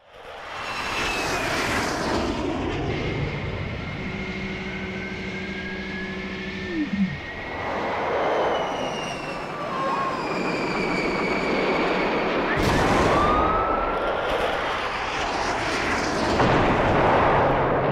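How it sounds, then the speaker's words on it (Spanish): Navy warplanes flying low overhead during a bombing raid on a government house, a sustained roaring engine drone with swelling passes and a loud burst midway, continuous throughout. "aviones de la Marina de Guerra bombardearon la Casa de Gobierno"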